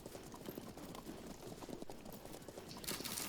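Horse archers' hooves clip-clopping in the Field of Glory II strategy video game, a dense steady patter of many galloping hooves at moderate level with no talk, swelling slightly near the end.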